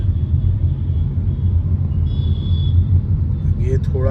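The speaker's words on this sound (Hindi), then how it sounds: "ये थोड़ा सा मूविंग ट्रैफिक है।" Slow-moving road traffic around a car driving from Gurgaon toward Delhi past DLF Cyber Park, a steady low engine and road rumble throughout, with a brief higher tone and a faint horn-like blip near the end.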